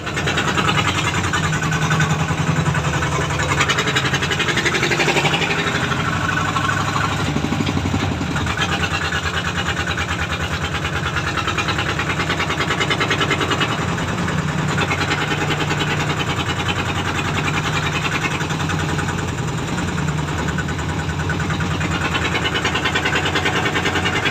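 A Thai rot e-taen farm vehicle engine runs steadily throughout a test drive, a continuous loud mid-pitched drone with rumbling low end and no pauses.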